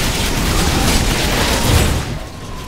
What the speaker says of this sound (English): all those explosions at one time, they pulled me in.